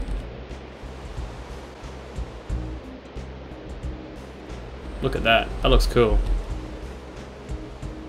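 Water draining into an iron tank in the Railcraft mod for Minecraft, a steady rushing wash like surf that runs throughout, with a person talking over it near the end.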